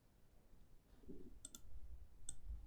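Mouse clicks on a computer's delete button, two sharp faint clicks about a second apart over quiet background hum, close and alone.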